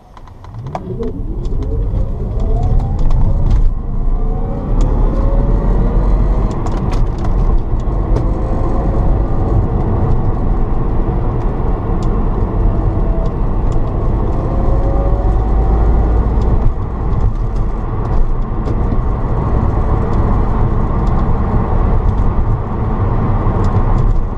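An electric-converted Datsun 280Z pulls away in second gear, its motor whine rising in pitch over a steady road rumble and cabin noise, loud and close throughout.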